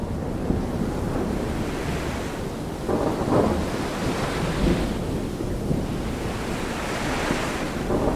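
Rolling ocean waves and blowing sea spray in a sailing video game, a steady roaring wash with wind buffeting that swells louder in surges, no voices.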